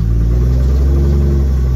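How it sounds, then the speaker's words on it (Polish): A Nissan drift car's engine runs steadily just after starting, a loud, close, low-pitched rumble with a faint rev, heard alone without voices. "Działa, odpalił za pierwszym strzałem."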